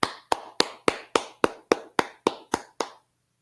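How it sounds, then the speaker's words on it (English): Eleven sharp, close hand claps from a single person during a history class land in an even, brisk rhythm about a quarter second apart, then stop, leaving silence at the end. "Let's clap it up."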